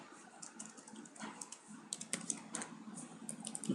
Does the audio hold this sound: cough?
no